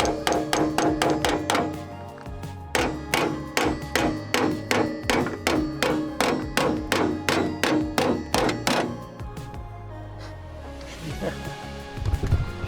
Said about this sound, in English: So we're test fitting this new panel and hammering it into place and shape,